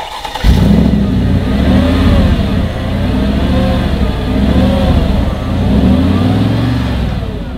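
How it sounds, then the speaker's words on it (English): A 2010 Mercedes-Benz G55 AMG V8 engine cranks and catches abruptly, then settles into a loud, throaty idle with a few gentle revs rising and falling. "Let's hear the SUV start."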